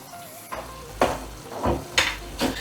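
Garlic, ginger and green chillies stirred in a frying pan, heard as a few close, irregular scraping strokes of a spoon over a low sizzle.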